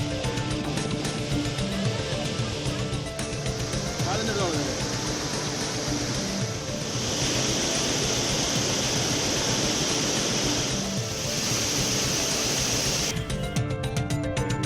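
Courtallam waterfall in Tenkasi district pours in a dense, continuous rushing hiss of falling water, while a voice speaks over it for most of the stretch.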